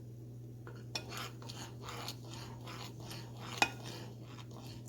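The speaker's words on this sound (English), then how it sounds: "So we'll continue to stir it throughout the process." Flaxseed gel is stirred in a pot on the stove, producing quiet, regular swishing strokes with small clinks of a utensil against the metal, one louder tap midway, over a steady low hum; no speech.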